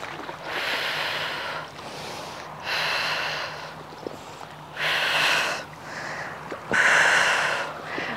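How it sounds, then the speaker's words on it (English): Forceful breaths are pushed out during a mat Pilates exercise: four long, breathy exhalations come close to the mic, evenly spaced with quieter gaps between them. "So I'm exhaling"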